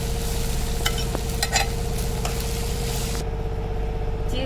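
Pasta stirred into heated milk with melting cheese in a pan, giving a steady low sizzle with scattered scraping clicks, close up and without talk.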